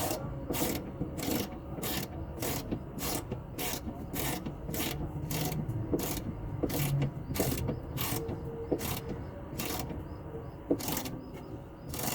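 Ratchet wrench tightening a mounting bolt on the chassis of a Suzuki APV during clutch work, a steady run of quick, regular clicking strokes close by with no talk.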